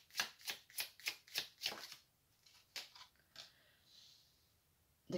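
Quick rhythmic run of about seven crisp tarot card flicks as cards are laid down, then a few scattered softer card snaps and slides, close and quiet.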